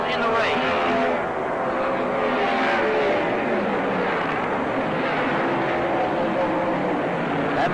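Ford-powered race cars roar around the track during the 1970 Hoosier 100, a dense, continuous engine drone with shifting pitch under steady loud crowd-and-track noise, no clear pass-by peaks.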